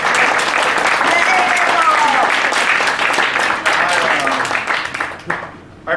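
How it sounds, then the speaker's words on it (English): Loud, sustained applause from an audience at a live event fills the room without pause, then thins out and fades near the end. "Would you give her a big round of applause?"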